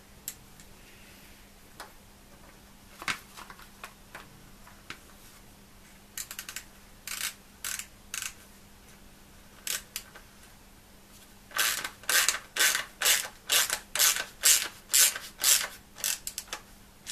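A screw driven back into a motorcycle fork protector: scattered ticks give way to a rapid, regular run of ratcheting clicks near the end, close and mechanical against a low steady hum.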